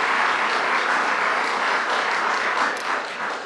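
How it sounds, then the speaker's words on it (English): A large crowd applauds and cheers, a dense, steady roar of clapping that holds loud throughout and dips slightly near the end. "People are cheering."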